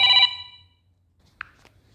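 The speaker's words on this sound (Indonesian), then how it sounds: "Mohon maaf tadi ada yang telepon." During a religious book-study lesson, a telephone gives a short, loud electronic ring that cuts off abruptly, leaving near silence broken by a couple of faint clicks.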